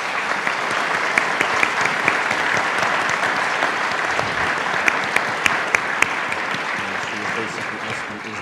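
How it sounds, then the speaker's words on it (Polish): Sustained loud applause from an audience in a cathedral, dense even clapping that carries on for several seconds with scattered sharper claps and faint voices beneath. "Dla wszystkich tych rodziców wielkie brawa"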